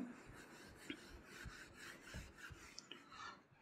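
Writing being rubbed off a board, a faint, quick series of rhythmic scrubbing strokes close by, with no talk.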